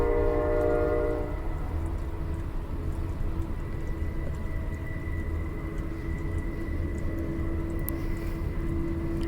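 An intermodal freight train rolls past outdoors in the cold, making a steady rumble of rail cars with a sustained horn-like tone at the start and then a fainter tone lingering beneath.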